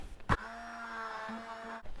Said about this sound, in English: just get your hand blender in there, and we're just going to blitz that